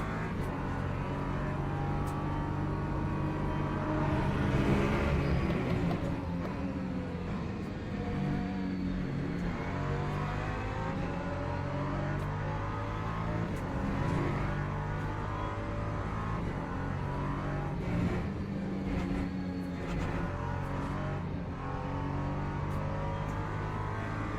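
LMP2 and LMP3 prototype race cars battle on the Qatar circuit, heard as a loud, continuous engine roar that rises and falls with revving and gear changes, with cars passing close by.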